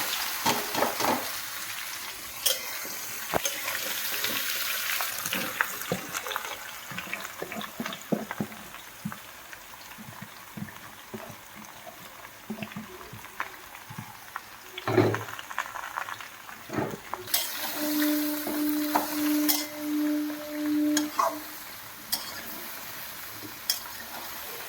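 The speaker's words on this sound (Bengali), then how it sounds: "এবার আমি আমড়াগুলো ঢেলে দিচ্ছি" Hog plums tip into hot oil tempered with dried red chillies and five-spice for a pickle, frying with a continuous sizzle and bubbling while a spoon scrapes and stirs in bursts; a steady electronic tone sounds briefly near the end.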